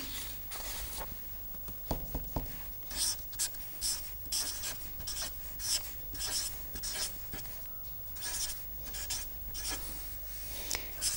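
Pen or marker scratching terms onto a writing surface during a mathematics lecture, close and dry, in a run of short strokes and scribbles with brief pauses between them.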